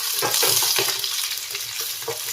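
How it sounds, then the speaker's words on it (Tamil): Small onions and urad dal sizzle in a hot pan, with occasional stirring scrapes, close and steady. "உளுந்து ஃப்ரை ஆக ஆரம்பிச்சிருச்சு"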